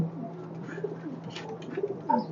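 Pigeons in a loft give soft, low repeated coos over a quiet background hum, several birds murmuring close by with no talking.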